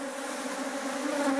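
Honeybees buzz around beehives in a steady, close hum with a clear tonal drone, continuous and fairly quiet over its brief length, with no talk.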